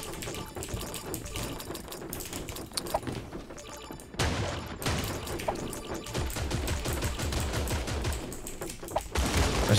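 Rapid gunfire in a Fortnite-like shooter video game, rattling almost nonstop, with a louder volley partway through and a voice speaking faintly underneath.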